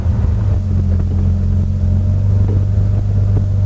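Porsche 911 engine droning steadily and loud while driving on a road test after transmission repair, a constant low rumble with no clear break for a downshift from third into second.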